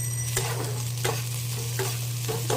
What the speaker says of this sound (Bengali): বসিয়ে দিয়েছি, একটু পেঁয়াজ দিয়েছি আগে, তারপরে গাজর ক্যাপসিকাম আর বিনস দিলাম।